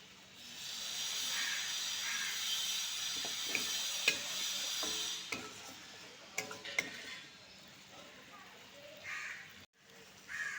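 Pointed gourd and soybean curry sautéing in a pan with a splash of water, giving a steady hissing sizzle broken by scattered clinks and scrapes of stirring, with a crow cawing faintly in the background.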